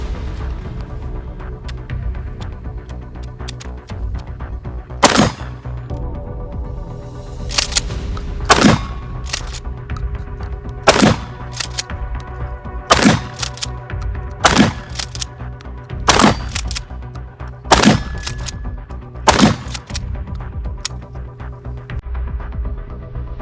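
A Pakistani-made Daudsons pump action shotgun fires seven loud, sharp blasts at a steady pace of roughly two to three seconds, with pump racking between shots over a constant low rumble of background noise.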